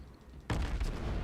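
A single heavy naval gun salvo from the Soviet cruiser Shchors in a naval battle game, a sudden loud boom followed by a rumbling tail.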